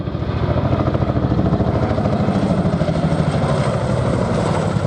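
An RAF Chinook twin-rotor helicopter flying display at the Duxford air festival produces a loud, continuous rhythmic blade thump and engine roar, steady and close.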